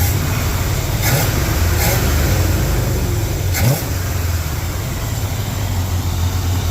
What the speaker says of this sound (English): carburetor nice and leaned out, idling about 1300 or 1100 RPM, and seems to be really happy.